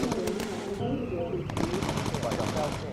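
Rapid bursts of aircraft machine gun fire with incendiary rounds in a World War II air combat game, crackling continuously across the clip with dense repeated shots, mixed with engine drone and voice chatter underneath.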